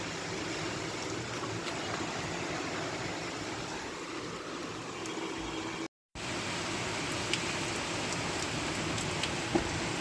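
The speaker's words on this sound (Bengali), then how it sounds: "কি মুষলধারে বৃষ্টি হচ্ছে সকালবেলা" Heavy morning downpour pouring steadily in a rural home setting, a dense continuous hiss of rain with a momentary break partway through, no voices.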